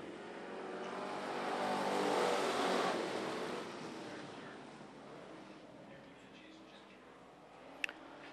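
Pure Stock race cars at a speedway accelerating out of turn four after the green flag, a broad engine roar that swells as the pack passes and then fades into a lower drone, with a track announcer talking over it.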